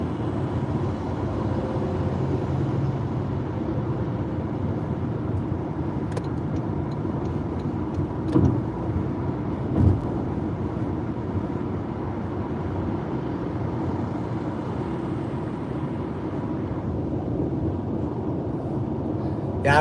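A car with adaptive cruise control set cruises along a highway toward St. George, Utah, a steady loud interior road and engine drone holding for the whole stretch, with only faint bumps and no talk.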